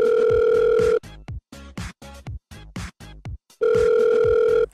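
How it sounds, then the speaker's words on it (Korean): A telephone ringback tone sounds while a call is placed, a steady electronic tone for about a second, then choppy intermittent sounds, then the tone again near the end. "전화를 한번 해봤습니다"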